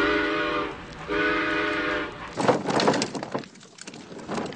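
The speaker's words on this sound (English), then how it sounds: "A train's coming." Two long whistle blasts from a train, then a rumbling, clattering rush of the train moving, loud and close, with no voices.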